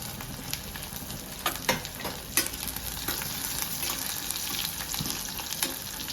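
Cloves and cumin dropped into hot oil for restaurant-style bisibele bath, crackling and sizzling steadily with sharp spatula scrapes and pops scattered through, close and without talk.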